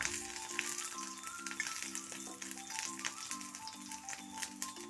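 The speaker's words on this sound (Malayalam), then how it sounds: "അതിൽ 3-4 അല്ലി വെളുത്തുള്ളി ഇട്ട് കൊടുക്കാം. അത് വഴറ്റിയെടുക്കാം." Three or four garlic cloves sautéing in coconut oil in an iron pan for chutney give a soft, steady sizzle with light crackle and occasional stirring. A repeating tonal beep-like pattern runs underneath.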